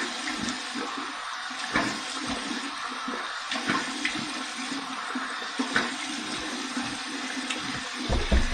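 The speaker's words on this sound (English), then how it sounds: "Let's do my cold water rinse." Cold water runs steadily from a bathroom tap for a rinse after shaving, a close, continuous hiss and splash with small irregular spatters.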